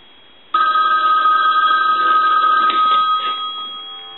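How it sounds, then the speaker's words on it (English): A payphone bell starts abruptly and rings continuously for a few seconds, loud and close, then begins to fade at the end. "We want to go ahead and ring the unit."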